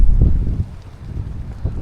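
Strong wind gusts roar across an open hillside on a hike by the Derwent Reservoir dam near Back Tor, a loud, buffeting low rumble against the microphone that swells and eases in short bursts.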